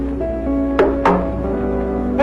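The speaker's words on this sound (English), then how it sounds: "It can also be said by a drum that can beat both high and low sounds." African talking drum struck twice near the middle, a high stroke then a lower one, each a sharp resonant hit ringing out over a steady background hum.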